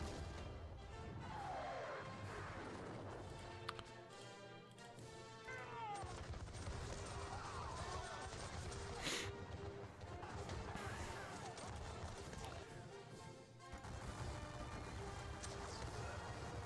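Musket volley fire in a John Tiller Napoleonic wargame, the Battle of Dennewitz: continuous crackling volleys and crashes under a steady loud battle bed, with a sharp burst standing out midway.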